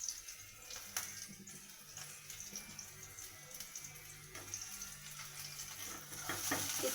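Garlic paste frying with chopped onion in hot oil in a pan while being stirred, a soft, steady sizzle with faint scraping, fairly quiet throughout.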